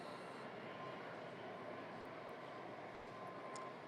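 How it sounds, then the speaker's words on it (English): A Washington Metro train pulls into a station, heard as a faint, steady low rumble and broad wash of noise that holds evenly throughout, with no clear voices over it. "new train coming in"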